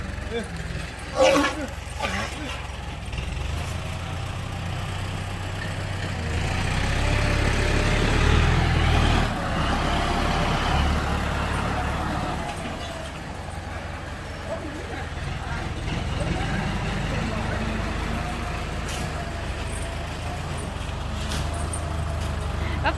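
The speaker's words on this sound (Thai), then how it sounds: "อาการนิ่งเมื่อได้ยินเสียงรถไถนะคะ" A low, steady farm tractor engine rumbles nearby for the whole stretch, swelling a little in the middle, with people talking over it.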